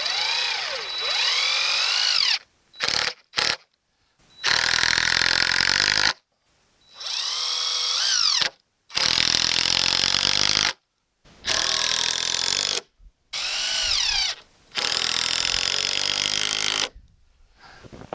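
A power drill drives lag screws into the floor framing of an 8x16 shed. Loud, close whirring bursts of several seconds each come in a series, broken by short pauses and brief trigger taps.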